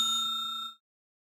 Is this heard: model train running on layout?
no